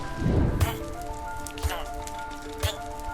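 Minecraft rain summoned by a game power, a steady patter of rainfall with a few soft thumping impacts, while a person talks over it.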